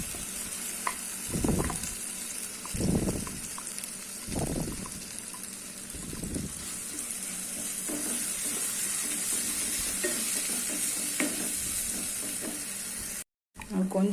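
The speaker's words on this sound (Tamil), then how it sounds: "ஏற்கனவே நம்ம வறுத்து அரைச்சிருக்கிறோம் அந்த மசாலா சேர்த்துறோம்." Ground roasted masala sizzles in a hot pan for tiffin sambar, with steady frying crackle throughout and several louder bursts of stirring in the first few seconds, followed by a brief drop near the end.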